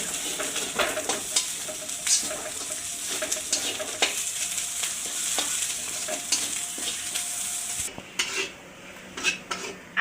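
Food fries in a pan with a continuous sizzle, along with stirring and frequent metal utensil scrapes and clinks against the pan. Near the end the sizzle drops and a few sharper clinks stand out.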